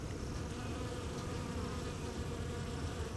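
Swarming honeybees buzz all around a blossoming maple tree, a dense, continuous hum of many wings, close and steady, with no voices over it.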